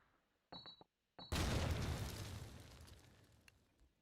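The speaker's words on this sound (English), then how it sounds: "nades are coming down" Grenade blasts in a Call of Duty 2 LAN championship match, a couple of short sharp pops followed by a big booming explosion that rumbles and slowly fades, loud and without speech.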